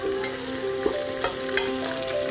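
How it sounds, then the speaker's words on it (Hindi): Capsicum sautéing in a hot pan with cumin and chilli, giving a steady close sizzle broken by a few sharp stirring clinks, with no talking. "कैप्सिकम डाल के आप अच्छे से इसको सॉटे कर लीजिए।"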